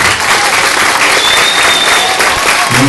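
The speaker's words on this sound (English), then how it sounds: "Big round of applause, come on." Close, loud applause from wedding guests at a reception, a dense burst of clapping with scattered cheers, steady throughout the short span.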